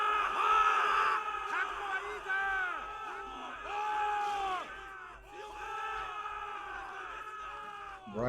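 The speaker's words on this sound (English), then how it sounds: "You hear these guys cheering?" Massed soldiers cheer and bellow in a battle game set in Japan in 1564, waves of overlapping shouts swelling and dipping over a steady rumble, fairly close.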